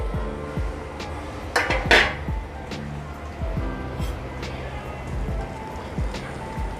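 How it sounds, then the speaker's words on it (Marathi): A metal lid comes off a cooking pot of simmering chikhlya dal, giving a couple of bright clanks amid a run of lighter metallic taps and thuds in a home kitchen, with faint background sounds. "झाकण काढून बघते"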